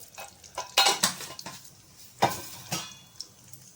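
Mustard seeds and fennel seeds sputtering in hot sesame oil, sharp intermittent pops and crackles over a faint sizzle, close and fairly quiet, with no talking.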